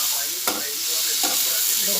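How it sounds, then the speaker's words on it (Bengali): Okra frying with ground cumin and other spices in a pan, a steady soft sizzle with a couple of brief stirring scrapes, close and continuous, with no talking. "ভেন্ডিটা একটু ভাজা ভাজা হয়ে গেছে।"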